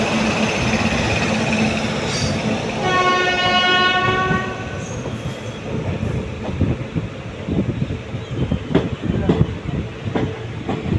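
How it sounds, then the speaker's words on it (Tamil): A passenger train travels on the rails between Karur and Coimbatore, heard from inside with a loud, steady rumble and rattle. A horn blares for a couple of seconds early on, followed by rhythmic wheel clatter. "வண்டி நல்லா செம்ம ஃபாஸ்ட்டாக போகுதுங்க வண்டி"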